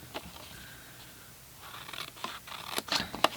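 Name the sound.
cutting paper tabs for a treat box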